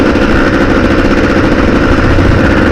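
A 2002 Honda CR250R two-stroke dirt bike engine runs steadily, a loud, close, buzzing drone with a rapid, even pulse that holds throughout without any voices.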